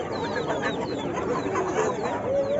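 Roosters and hens clucking and calling over a busy crowd hum at a goat fair livestock market in Pernambuco, Brazil, with steady overlapping clucks and a drawn-out crow near the end.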